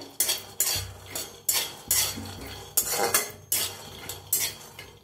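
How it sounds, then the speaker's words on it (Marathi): Peanuts being stirred and dry-roasted in a metal kadhai, a spatula scraping and rattling the nuts in regular bursts about every half second, close and loud, no talking. "आता आपण शेंगदाणे भाजून घेऊया।"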